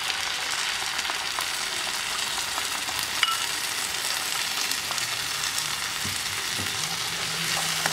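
Peppers and onions stirred in a hot pan with tomato sauce, a steady close sizzle and fry with faint scraping of the spoon throughout, no voices.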